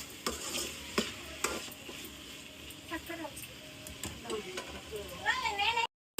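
Mixed vegetables sauté in oil in a pan, a moderate sizzle with stirring scrapes and clicks while a person talks over it, ending in a brief cutout.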